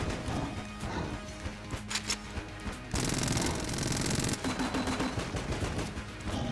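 Gun firing in Enter the Gungeon, a modded run, with spaced single shots and clattering impacts, then a stretch of steadier rapid fire before sparse shots return, moderately loud with no speech.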